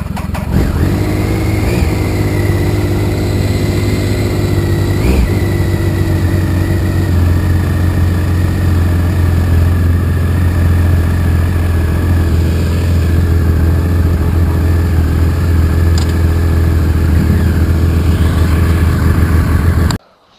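A Triumph 955i motorcycle engine runs steadily close by, holding a deep idle with a few brief revs blipping early on, loud and continuous for about twenty seconds before cutting off.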